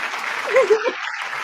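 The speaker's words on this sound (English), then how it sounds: "Malcolm, hit another clap for me, please, sir" A clap sound effect played during a live stream, a brief burst of applause-like clapping with a voice speaking over it.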